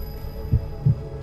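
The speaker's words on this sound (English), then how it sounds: "That's your heartbeat." A heartbeat sound effect gives two deep, muffled thumps about a third of a second apart, close and distinct over a low steady hum.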